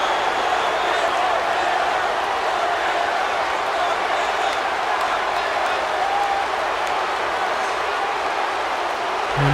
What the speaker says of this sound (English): Freddy actually getting a positive response from the crowd here in Florida